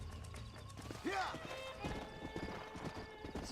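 Hoofbeats and a horse's whinny in Red Dead Redemption 2: a rising, wavering neigh near the one-second mark, then steady clip-clop under a voice.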